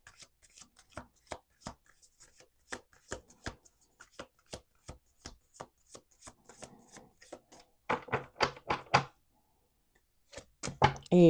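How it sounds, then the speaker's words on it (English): A deck of cards is shuffled repeatedly, crisp riffling flicks in a quick irregular rhythm, close and fairly quiet, ending with denser riffle bursts. "One last shuffle here."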